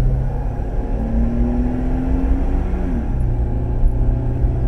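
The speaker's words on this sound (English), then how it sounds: "Wide open throttle." A Chevy car engine runs at wide open throttle with a steady low rumble inside the cabin. A faint pitch rises, then drops as the engine accelerates, with no talk.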